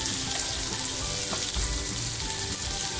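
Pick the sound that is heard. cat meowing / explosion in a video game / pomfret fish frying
pomfret fish frying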